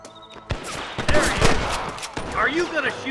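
Rapid gunfire in Red Dead Redemption as a posse fires on cattle rustlers, several sharp shots and bursts crackling over about three seconds, with voices shouting between the reports.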